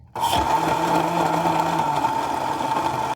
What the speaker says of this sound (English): Okay, now we're going to mix it. We're going to blend.